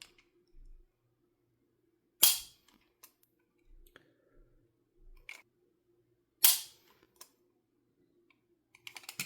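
Staccato HD pistol trigger breaks with two crisp, isolated mechanical clicks several seconds apart, close and sharp against near silence.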